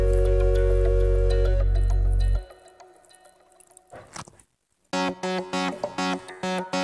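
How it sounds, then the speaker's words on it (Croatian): Water being added to a homemade playdough mixture, a heavy tone giving way to dripping and liquid squishing, then a run of wet pulses up close, with no one talking. "Dodat ćemo vodu."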